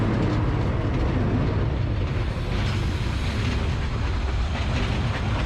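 A Harz narrow gauge heritage railway train travels between Eisfelder Talmühle and Nordhausen, filling the whole span with a loud, constant roar and rattle of the running cars.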